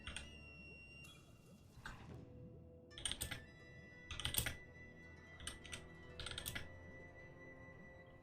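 Computer keyboard typing comes in short bursts of quick, close clicks separated by pauses, fairly quiet against a faint steady background hum, with no voices.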